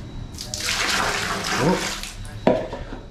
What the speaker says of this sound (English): you flush the toilet with the ladle, you fill the ladle up in the bucket